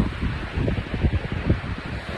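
Steady wind buffets the microphone in gusty rumbles, with a soft wash of open-air noise behind it, at Qijin District beach in Kaohsiung, Taiwan.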